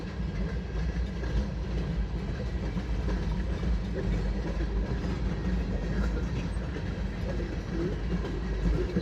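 A freight train with boxcars rolls past in a steady, loud rumble, with low-frequency rail noise and a faint clickety-clack of wheels holding constant throughout.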